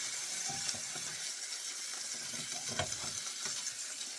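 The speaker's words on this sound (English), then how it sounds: "Starting to cook and sizzle." Pork chops sizzle quietly in a hot pan, a soft continuous crackle with occasional pops and light scraping.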